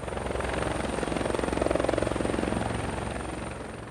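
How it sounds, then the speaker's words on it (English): A helicopter landing in a snowy clearing, its rotor thudding in a fast, steady pulse with a continuous engine whine, loud and close throughout. "a helicopter lands to pick up the bags of white powder"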